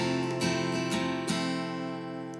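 A strummed acoustic guitar chord, rung out several times in a steady rhythm, each stroke sharp and then sustained, close and clear, with no voices.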